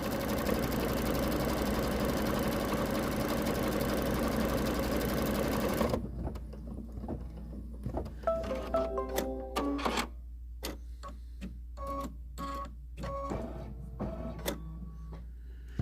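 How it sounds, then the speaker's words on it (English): A Baby Lock embroidery machine stitches out a placement line: about six seconds of loud, steady mechanical whirring and rattling, then it stops and quieter clicks and short tones follow. "the next step is we're going to stitch out color number 3, which is going to give us our placement line"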